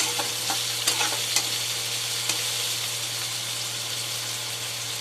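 Onion sautéing in a pan with peanuts, a steady close sizzle with light scraping and stirring clicks, even and continuous throughout.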